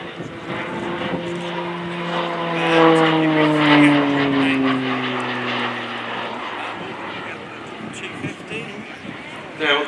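A Pilatus PC-9M Hudournik propeller aircraft flying a display manoeuvre at an air show, its engine drone swelling and then sliding lower in pitch as it passes, under steady commentary over loudspeakers.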